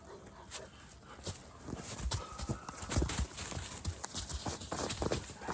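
Big farm-type dog moving about restlessly outdoors, with paw scuffs and thumps in an uneven patter and faint whimpering, close and moderately loud, without talk.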